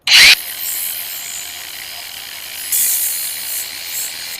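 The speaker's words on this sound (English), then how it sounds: "I just took my angle grinder and put a flap disc on it" Angle grinder fitted with a coarse flap disc, grinding a little off a metal edge while fixing a Tao Motor 125cc ATV four-wheeler. A sharp whine and scrape open the clip, a fainter steady whir follows, then a second grinding burst comes near the end.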